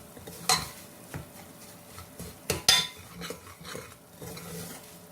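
Broken wheat dalia being dry-roasted and stirred constantly in a pan, quiet scraping and rustling with irregular spoon clinks and knocks against the metal, close and fairly faint.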